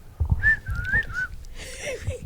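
Someone whistles a short rising-and-falling tune of a few drawn-out notes over a low background murmur, followed by fainter whistled notes and scattered noise.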